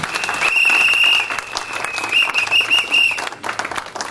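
A church audience bursts into dense, sustained applause with cheering and shrill whistles, lasting a few seconds before fading, while a speaker's voice carries over the crowd.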